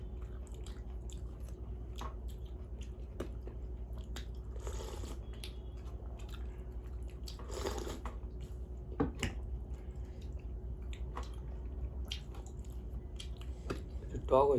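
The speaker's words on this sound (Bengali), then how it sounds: "চাটনি খাচ্ছে।" Someone eats rice with a tangy chutney, chewing close and soft with faint wet mouth sounds and small bites spread across a quiet stretch.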